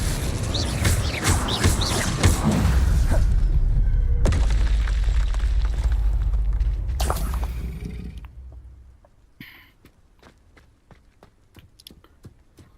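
Spells are cast during a Hogwarts Legacy boss fight, with loud, dense booms and bursts running for several seconds. The roar then fades, and sparse scattered pops and cracks follow.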